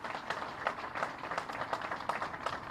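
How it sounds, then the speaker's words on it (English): An audience at a university press conference claps in a brief round of applause, faint and distant, with scattered hand claps forming an uneven patter. "How about a round of applause for that young man?"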